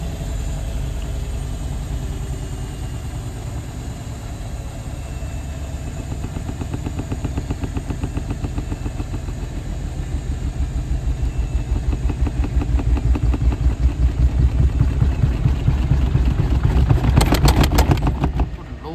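An Indesit Innex washing machine spins a wool load with its drum bouncing, giving a loud, steady low rumble with rapid rhythmic thumping that builds in intensity, ending in sharp knocking bursts near the close.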